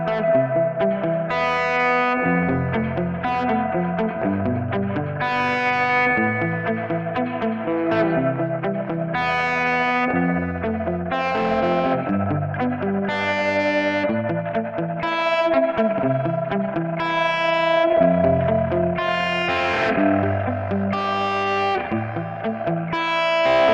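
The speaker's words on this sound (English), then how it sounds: "It can also apply tremolo to the spring tank output" Sustained, heavily effected electric guitar chords through a Gamechanger Audio Light reverb pedal, washed in springy reverb, with a pulsing tremolo wobble running steadily through the whole passage.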